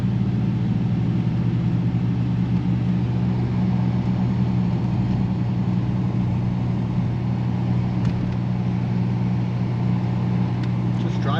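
A 1989 Chevrolet Camaro RS with 6,500 miles on a test drive, heard from inside as a steady low engine drone and road rumble that holds even throughout, with no talk.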